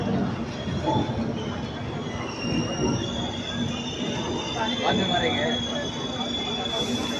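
Mumbai LTT Express train standing or rolling at Erode Junction station, a steady rumbling rail hum with high metallic squeal tones running throughout, under faint background chatter on the platform.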